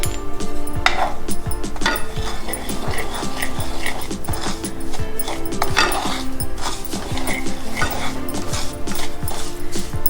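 Semolina cooking in ghee in a pan for sooji halwa, with steady scraping and stirring clatter of a utensil against the pan continuing throughout, close and fairly loud, over a low background hum.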